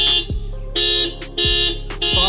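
A Tata Altroz car horn, triggered from the smart key fob, beeps repeatedly in short, evenly spaced honks over a steady electronic tone, loud and close.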